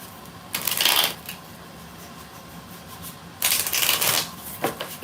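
Two quick bursts of cards being riffled and shuffled, close up, separated by a pause of near silence.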